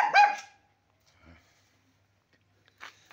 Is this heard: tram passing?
no